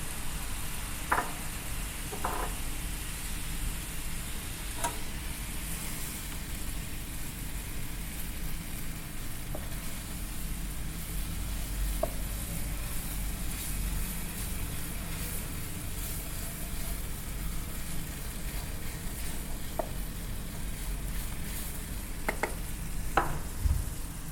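Butter heating in a pan for searing salmon makes a continuous, even hiss and fizz close by, with a few faint clicks scattered through and no voices.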